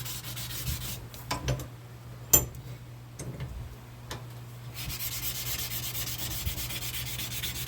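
A block sander rubs back and forth over a firearm's flat surfaces in soft, uneven scraping strokes, with a few sharp ticks and a low steady hum underneath.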